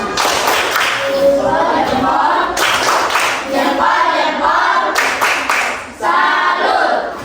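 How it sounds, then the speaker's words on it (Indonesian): Schoolchildren in a classroom doing a rhythmic salute clap, rapid group clapping in bursts mixed with their chanting voices, loud and close. "Tepuk salut, tepuk salut."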